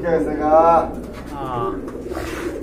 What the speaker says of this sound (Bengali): বন্ধুরা আরেক জোড়া কবুতর দেখতে পাচ্ছেন, টপ কোয়ালিটি ফুল